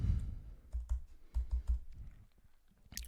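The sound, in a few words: computer keyboard typing credit card data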